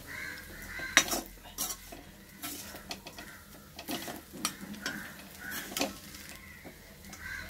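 Kaanthari chicken fries in a pan while a metal spoon scrapes and clinks against it in irregular strokes over a soft, low sizzle.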